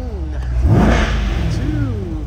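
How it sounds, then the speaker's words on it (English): A 2021 Chevrolet Corvette convertible 2LT revs its engine from inside the cabin, a loud rising roar that swells around the middle and settles into a steady growl, with brief talk over it. "I'll turn on the headlights and it's rev time"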